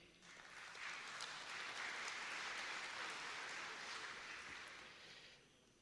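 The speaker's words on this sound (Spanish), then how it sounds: "Para él pido un fuerte voto de aplauso para el congresista y para el viceministro." Audience applause for a congressman and an agriculture vice-minister at an official event, a steady broad clapping that holds loud for several seconds and then tapers off near the end.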